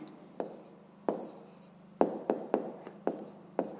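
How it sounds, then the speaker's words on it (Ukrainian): Pen strokes on paper as an answer is written down for a fifth-grade maths exercise: a series of short, distinct taps and scratches at an irregular pace, close and quiet, with no talking. "Отже, пишемо відповідь. Давайте тоді я тут напишу."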